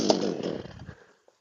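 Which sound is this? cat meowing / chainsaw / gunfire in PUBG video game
chainsaw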